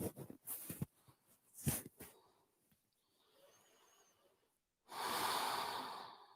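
Heavy breathing during a gym workout class: a few sharp, close nasal snorts and inhales, a quieter stretch of soft breath, then one long, loud exhale that rushes out at the end.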